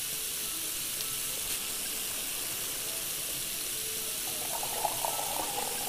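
Water poured into a bottle in the video game Cooking Simulator, a steady hissing, splashing flow heard alone at moderate volume for several seconds.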